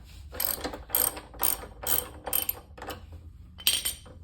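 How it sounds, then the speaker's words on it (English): A ratchet wrench works a motorcycle axle nut loose in a series of about seven close, crisp clicking strokes at a steady rhythm, with no talking. "take off this axle nut"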